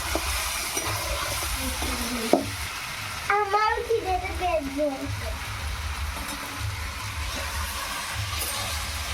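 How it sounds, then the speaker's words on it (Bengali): Chicken meat frying in a pan for Bihari chicken, a steady sizzle and stirring scrape running throughout, with a voice speaking briefly over the cooking noise partway through. "মাংসটা কিছুক্ষণ ভেজে নিয়েছি"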